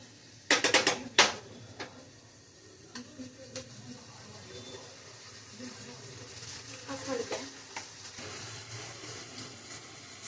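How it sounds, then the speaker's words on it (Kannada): Cluster beans fry in a pan over high flame while a utensil stirs them, giving a few sharp metallic clanks at first, then steady sizzling with scraping strokes. A voice speaks now and then. "ಸ್ವಲ್ಪ ಹೈ ಫ್ಲೇಮ್ ಇಟ್ಟು ಈ ತರ ತಿರುಗಿಸ್ಬೇಕು."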